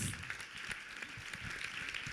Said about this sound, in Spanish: Un aplauso para José Luis